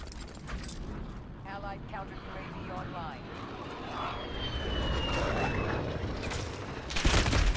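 A VTOL aircraft in Call of Duty: Modern Warfare passes overhead with a rising and fading engine whine and rumble. It is mixed with gunfire and battle noise, and voices talk throughout.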